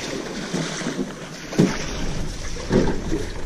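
A small, light rowboat being pushed off into the water, with wind buffeting the microphone and two dull knocks and scrapes of the hull about a second apart.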